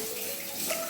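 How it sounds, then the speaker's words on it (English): Tap water runs steadily into a kitchen sink as spring onions are washed, a soft, brief and fairly quiet splash with no talk. "Okay, wash first the spring onion."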